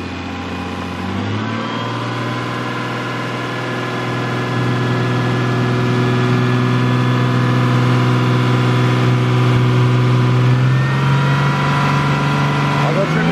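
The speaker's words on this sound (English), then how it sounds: "Big Daddy's on the throttle there." A Toyota Mk3 Supra's 7MGTE engine is held at rising revs, a loud, steady drone that climbs in pitch, levels off, then shifts near the end, with a voice talking faintly underneath.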